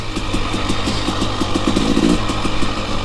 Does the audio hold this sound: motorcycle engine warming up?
yes